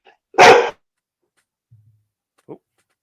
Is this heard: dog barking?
yes